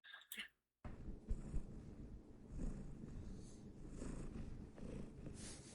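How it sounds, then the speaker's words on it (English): A female cat purrs in a steady, continuous low rumble, close and fairly soft, after a brief rustle and a moment of silence at the start. "Oh, female cat purring and cat noises."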